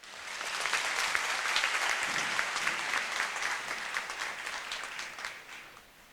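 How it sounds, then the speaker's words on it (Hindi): Sustained applause from a crowd at a speech event, steady and full for several seconds before tapering off slightly at the end. "जोरदार तालियों से स्वागत करें"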